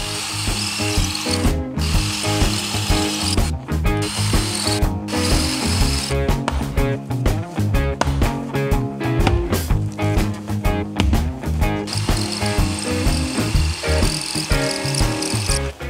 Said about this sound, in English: So we're gonna try drilling some holes.